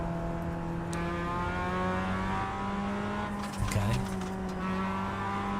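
Mazda MX-5 race car in the iRacing sim, its engine holding a steady loud drone throughout, with a brief scrabble of tire noise near the end and a single short spoken word.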